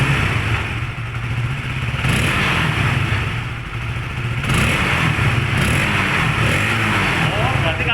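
Honda CBR motorcycle engine revved repeatedly at standstill during a diagnostic scan tool check, throttle blips rising and falling over a steady idle, close and fairly loud with voices talking nearby.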